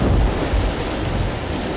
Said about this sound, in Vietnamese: là lốc xoáy đó.